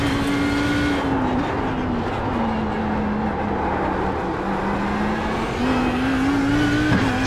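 An Audi R8 GT3 race car on Oran Park in iRacing, its engine droning steadily at high revs with small pitch drops at gear changes, loud and continuous from the cockpit.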